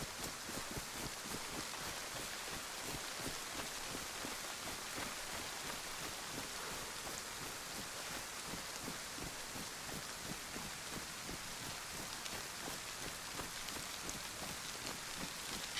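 In-game rain pours down steadily for the whole stretch, a loud, continuous hiss of drops striking surfaces, with a faint wind-like wash beneath and no talking.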